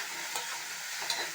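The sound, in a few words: sautéing elephant foot yam with tomato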